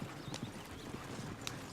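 Rapid hoofbeats of horses galloping in Red Dead Redemption 2, a steady busy clip-clop over a noisy backdrop, with a brief whinny-like squeal.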